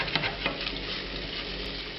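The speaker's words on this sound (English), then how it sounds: "On a medium heat, when the fat begins to render out of the bacon, I'm adding half a teaspoon of paprika" Bacon frying in a pan over medium heat as its fat renders, a steady close crackling sizzle with faint patter and scattered small pops throughout.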